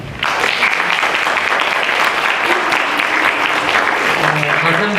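An audience at a youth forum applauds the arrival of lawmaker Hong Joon-pyo, with loud, sustained clapping that starts suddenly and holds steady.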